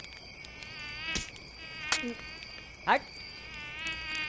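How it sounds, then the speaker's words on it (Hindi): Mosquitoes whine and buzz continuously close by, a thin high drone that holds steady throughout, broken by a few sharp slaps and a brief spoken word. "अब मच्छरों को मारने की और प्रैक्टिस कर लो"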